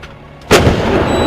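An artillery gun fires a single shot, a sudden loud blast that booms out and rumbles on for a moment, heard outdoors with no voices over it.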